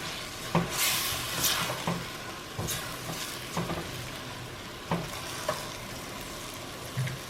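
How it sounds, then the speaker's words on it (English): Tomatoes and onions are tossed in a hot frying pan for lomo saltado, giving a continuous sizzle with repeated soft clanks and scrapes as the pan is stirred; no voices. "you're gonna give that a quick toss, a couple more minutes"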